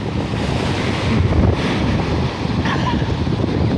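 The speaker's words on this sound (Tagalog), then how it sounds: "Lalaki ng alon" Heavy ocean surf rolling and crashing nearby at Balugo, Leyte, with strong wind buffeting the microphone and a brief voice in the background.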